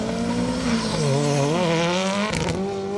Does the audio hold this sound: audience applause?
no